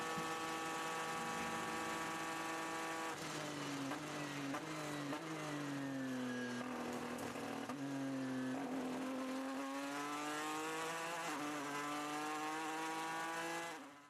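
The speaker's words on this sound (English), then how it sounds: "This is our leading GTE Pro car." GTE Pro race car at the 2016 24 Hours of Le Mans, its engine screaming at high revs and shifting pitch through gear changes, loud, close and continuous for the whole stretch, with no talk over it.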